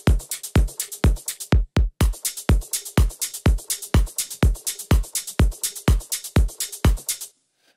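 Drum master bus of an electronic track built in Bitwig from sampled kicks: a steady, punchy beat of sharp, bright hits with a low thump, about three per second, dropping out for a moment near two seconds before cutting off near the end.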